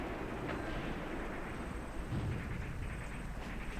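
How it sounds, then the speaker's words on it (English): Mortar barrage of roughly 5 cm shells in the WWII strategy game Graviteam Tactics, set around Kharkov in 1941: a continuous low rumbling roar with dull, muffled booms, steady and moderately loud, no talking. "now my mortar barrage is going down, nice"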